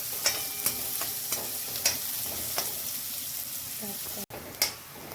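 Finely chopped onion fries quietly in a pan while a spoon stirs it in a steady run of light scraping clicks over a soft sizzle, with a brief dropout near the end.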